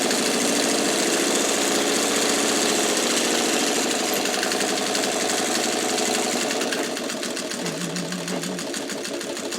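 A sewing machine stitches a pillowcase with light gray thread in a fast, continuous mechanical whir, shifting into a slightly different rhythm near the end for back stitching. It is close and steady, with no voices.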